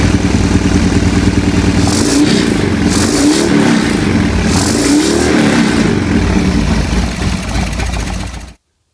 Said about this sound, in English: now let's see if I can start the bike